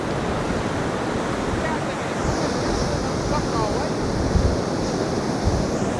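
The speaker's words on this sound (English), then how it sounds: "Some big breakers coming in there now" Big sea breakers rolling onto a beach at Fleetwood Marine Beach near Blackpool, a steady broadband roar of surf with wind buffeting the microphone, constant and fairly loud throughout with no talk.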